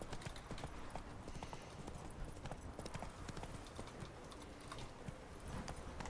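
Rapid hoofbeats of a trotting horse in the video game The Witcher 3: Wild Hunt clatter in a steady rhythm, close and continuous, with faint rumbling beneath.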